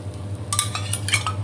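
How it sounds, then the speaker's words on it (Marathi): Khichdi paratha flipped on a hot tawa: a few quick metallic scrapes and clinks of a spatula against the griddle over a steady low hum, close and moderately loud. "पुन्हा पराठा मी पलटून घेते."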